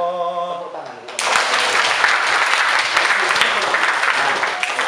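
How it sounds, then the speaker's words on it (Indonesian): Applause from an audience at a Reyog teaching session in Ponorogo bursts in after a sung phrase and keeps up as loud, dense, steady clapping. "Tepuk tangan."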